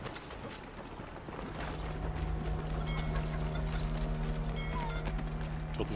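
Chickens clucking in the video game Assassin's Creed III, a busy cluster of fowl sounds mixed with footsteps and game ambience, fairly quiet and steady throughout.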